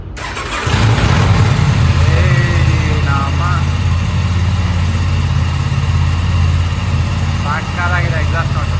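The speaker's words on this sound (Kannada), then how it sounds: "ಸೊ ಈಗ ಸ್ಟಾರ್ಟ್ ಮಾಡ್ತಾ ಇದ್ದಾರೆ. ಎಕ್ಸಾಸ್ಟ್ ನೋಟ್ ಕೇಳಿಸ್ಕೊಳ್ಳಿ ನೀಟಾಗಿ." An Aprilia RS 457 motorcycle cranks and fires up, then settles into a loud, steady idling exhaust note close by, with someone talking over it at points.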